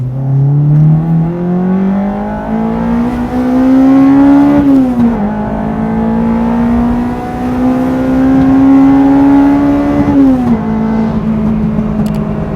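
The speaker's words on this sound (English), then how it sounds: "Let's do a second gear pull." A mapped Honda Civic Type R EP3 accelerates hard in second gear, heard from inside the car as a loud engine note climbing steadily in pitch and held high, with a brief dip at a shift before rising again.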